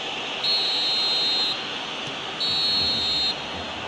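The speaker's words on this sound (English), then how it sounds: "There is the half-time whistle." A referee's half-time whistle in the football video game PES 2021 sounds as two shrill, sustained blasts of about a second each, loud over a steady stadium crowd murmur.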